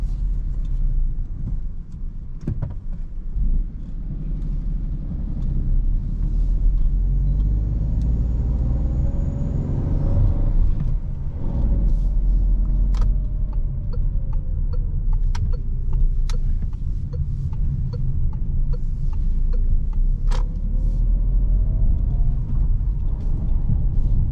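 A 2021 Citroen C3 facelift with a 110 HP petrol engine drives through Zagreb streets past midnight, giving a steady, loud low engine and road rumble with mild rises and falls in pitch and a few faint clicks throughout.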